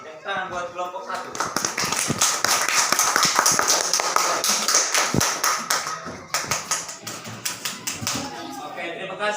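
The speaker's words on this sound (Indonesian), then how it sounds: "Tepuk tangan buat kelompok 1" A group claps in a dense burst of applause in a primary school class, with voices talking over and around the clapping as it continues.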